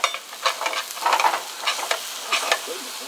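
Burgers sizzle in a pan, close and moderately loud, with bursts of crackling and stirring scrapes that rise and fall over a soft hiss.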